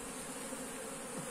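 Honeybees hum steadily at an open hive during a colony split, a soft continuous buzz from many insects close by, with no voices.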